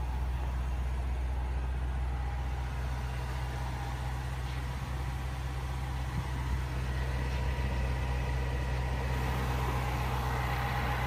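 A 2016 Range Rover Sport SVR's 5-liter supercharged V8 idles steadily with the hood open, a constant deep low hum close by without revs or pauses.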